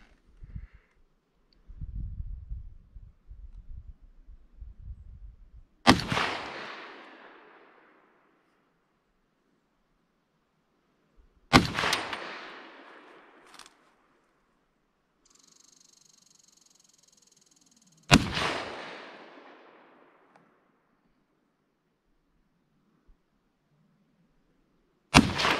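An M1 .30 Carbine rifle fires four sharp, loud shots roughly six seconds apart outdoors through weeds and brush, each followed by a fading echo, with faint rustling and handling noise between them.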